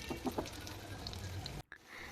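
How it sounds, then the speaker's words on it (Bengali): Egg snacks fry in hot oil in a pan with a soft, continuous sizzle, faint and close, broken by a brief dropout near the end before the sizzling resumes. "তো দেখুন, একইভাবে আমি নাস্তাগুলোকে ভেজে নিচ্ছি।"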